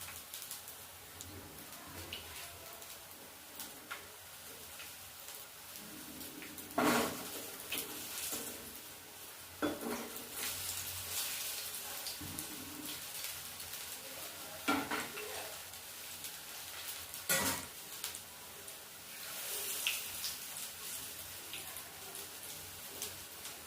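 Broccoli pakora fry in hot oil in a kadai, giving a steady crackling sizzle over the whole stretch. Occasional sharp utensil clinks and knocks from stirring stand out against the hiss.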